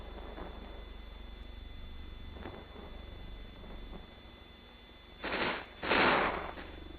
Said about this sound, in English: the platoon machine guns increase their rate of fire on the enemy